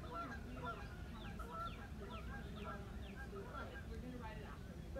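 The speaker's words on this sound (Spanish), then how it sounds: "¿Escuchan los patos?" Ducks and geese quack and honk at a small pond behind a house, a faint, busy chorus of calls in the distance, with someone talking over it.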